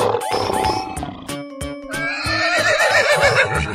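Horse whinny from a cartoon animal-painting game, loud and close, sounding over busy game music and chimes for a few seconds.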